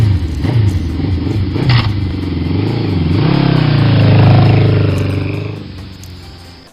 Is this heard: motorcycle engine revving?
yes